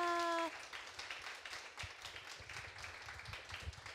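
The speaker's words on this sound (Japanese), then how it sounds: "本日あのご登壇いただきました3名の皆様に改め て拍手をいただければと思います" An audience at a town panel discussion in Kamiyama applauds the three panelists, a soft and fairly distant patter of clapping that follows a brief tone and carries on for several seconds.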